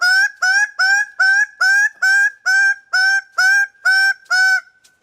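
A bird calls about eleven times in a regular series of loud, nasal, honking notes, close and clear against silence, fading on a last weak note.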